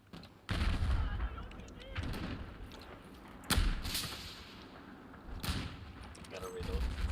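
Video-game gunfire in Battlefield 2042: several loud, sharp shots in separate bursts over steady battle rumble, with voices talking over the action.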